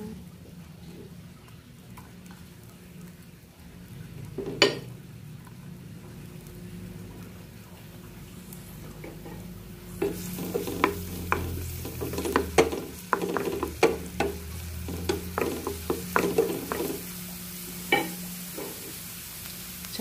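Garlic dropped into hot cooking oil in a pan, for sardines, begins sizzling about halfway through, with a steady crackling fry and scattered sharp pops and stirring scrapes over a low background hum.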